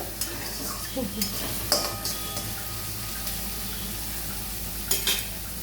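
Onions frying in a pan for a Bengali doi katla curry, a steady close sizzle with occasional scrapes and stirring clinks of a utensil against the pan, no talking.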